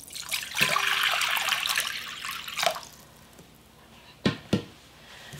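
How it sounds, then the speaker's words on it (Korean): Water poured into a container while making cucumber water kimchi, a continuous splashing gush for about two seconds, then quiet with a couple of sharp knocks afterward, close by. "물을 붓고서"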